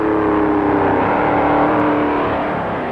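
A 1957 Pontiac stock car roars at racing speed around the Daytona Beach course, a loud, steady engine drone that holds close for several seconds and then eases slightly, with no talk.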